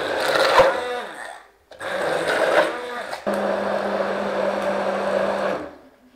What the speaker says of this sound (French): J'ai plus qu'à mixer.